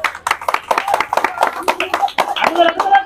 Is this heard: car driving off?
no